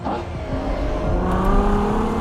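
A Ferrari Purosangue V12 engine drones steadily and rises gradually in pitch as it accelerates, a loud continuous roar with no talking.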